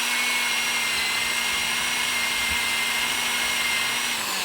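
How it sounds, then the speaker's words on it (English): Power drill with a 5/8 inch paddle bit boring into a wooden stair, a loud steady high-pitched whine held close for several seconds, dipping slightly as it winds down at the end. "we used a 5/8 inch paddle bit"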